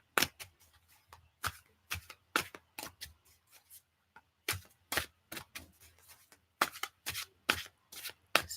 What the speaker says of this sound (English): just get these cards shuffled as we chat